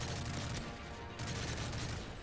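Sustained gunfire in Modern Warfare 3, a dense rattling volley of rapid shots that runs almost continuously and stays loud throughout, with no talking.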